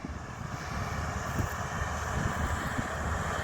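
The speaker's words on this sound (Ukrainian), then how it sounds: "Отаким трактором. Трактор ловол. 1054." A Lovol 1054 tractor engine runs steadily while no-till sowing wheat into soybean stubble, a continuous loud low rumble with a broad, even drone and no pauses or talk.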